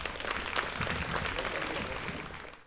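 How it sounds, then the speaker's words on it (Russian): Audience applause at a stand-up comedy concert in Odesa: a moderate, steady patter of clapping that fills the whole moment evenly and tapers slightly at the end. "Такие не самые веселые аплодисменты."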